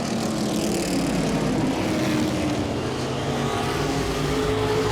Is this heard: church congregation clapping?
no